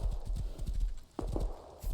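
Horse hooves clip-clop in the video game Rust, a close, steady run of hollow thuds that briefly pause, then resume at a quicker gallop.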